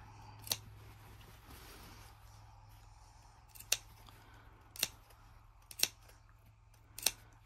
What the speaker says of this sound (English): I love that sound that the scissors make, that snip sound.